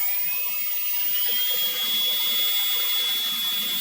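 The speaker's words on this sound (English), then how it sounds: "Rotary tool, Dremel, actually a worx makerx cordless rotary" A Worx MakerX cordless rotary tool cuts with a continuous high-pitched whine, loud and close, holding a steady tone throughout with no speech.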